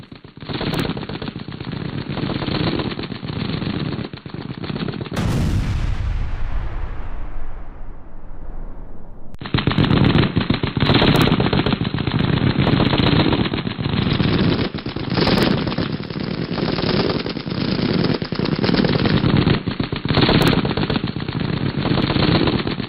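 Combat near Donetsk, with loud sustained bursts of machine-gun fire, a heavy explosion that rumbles and fades, then more continuous rapid gunfire, close and dense, with no voices.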